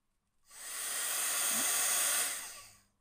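A heat gun blows a steady, close, hissing rush of air over alcohol ink, swelling in and fading out over a few seconds with no speech.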